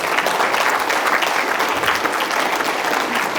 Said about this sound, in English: That's deserving of a round of applause.